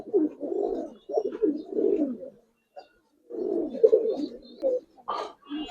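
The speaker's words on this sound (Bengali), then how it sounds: "ভাই এক জোড়া সাপচিলা কবুতর দেখেন ভাই, এইটাও ভাই সারা দিন উড়াইতে পারবেন ভাই।" A pair of Sapchila pigeons coo in a loft, close and fairly loud, in repeated throaty rolling phrases with brief pauses between them and no speech.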